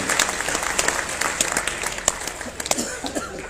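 Audience at a Hindi-language comic poetry gathering claps continuously, with sharp individual claps standing out from a dense wash, plus a few coughs and a little laughter in the room.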